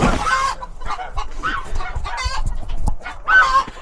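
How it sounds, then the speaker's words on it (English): Chickens on a ranch cluck and squawk up close in a busy, overlapping flurry, with a rooster-like call among them and little else behind. "We also have chickens that come in on the side"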